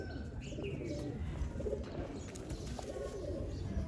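Sialkoti pigeons cooing in a loft, low soft coos repeating steadily with a few faint chirps over a continuous murmur of background noise.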